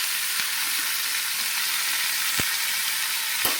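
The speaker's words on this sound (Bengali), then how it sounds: "ভালো করে ভেজে নিই।" Vegetables sizzle steadily in a hot pan for an egg, potato and soybean curry, a continuous bright hiss with a few soft clicks of stirring.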